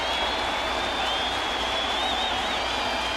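Baseball stadium crowd at a Rays–Yankees game swelling into a loud, steady roar after a rain-dampened stretch, a dense continuous wash of cheering with a whistle-like tone threading through it.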